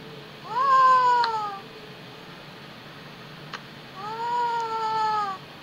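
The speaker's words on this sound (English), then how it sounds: "Oh, it is a cute kitten." A kitten meows twice from video playback, each meow a drawn-out, rising-then-falling cry separated by a few seconds of faint background hiss.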